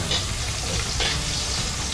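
Potatoes fry in a pan as the first step of a duck kaldereta, giving a dense, even sizzle heard close up, with no talking.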